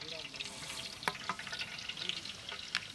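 Spices and coriander seeds sizzling and frying in hot oil in a pan, a steady soft crackle with a few sharper pops and stirring clatter.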